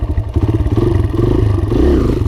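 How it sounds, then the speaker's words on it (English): A dirt bike engine revs with the clutch held in, close and loud, its pulsing low throttle blips rising and falling in a steady chugging rhythm. "hold the clutch in, and you want to get not rev it up too high"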